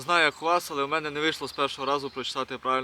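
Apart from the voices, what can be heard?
No distinct noise like a dog, phone or traffic.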